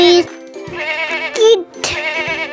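A goat bleats in a few harmonic, wavering calls with short gaps between them, close and fairly loud with no other sounds.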